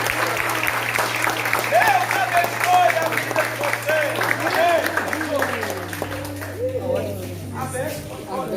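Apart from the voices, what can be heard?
applause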